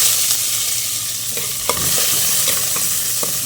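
Onion fries in a pan for vegetable upma, giving a steady, loud sizzle broken by several scraping knocks as a spoon stirs it.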